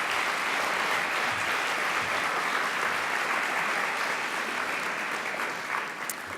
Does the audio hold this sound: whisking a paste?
no